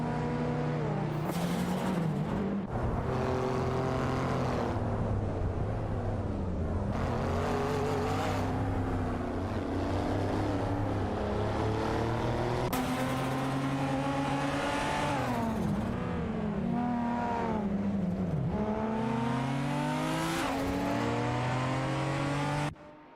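Retro street race cars in a racing video game, engines revving and shifting through repeated rising and falling pitch sweeps, loud and continuous with occasional tire squeal.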